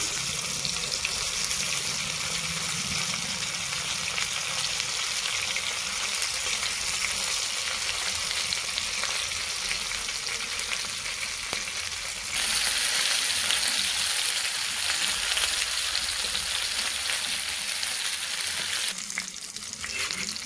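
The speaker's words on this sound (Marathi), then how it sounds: "बघू शकता आपली मच्छी किती छान फ्राय झालेली आहे, खूप छान तळली." Fish fries in hot oil with a continuous loud, dense sizzle and crackle that holds steady and close throughout, with no voices.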